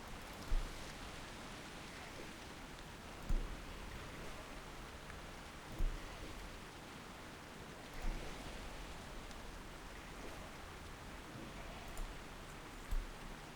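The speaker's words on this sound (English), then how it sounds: "Oh, that rain is very loud." Steady, heavy rain hiss in World of Warcraft fills the whole stretch, with soft thumps recurring every couple of seconds underneath.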